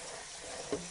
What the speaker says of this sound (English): I'm going to rinse them out. Just rinse all the salt off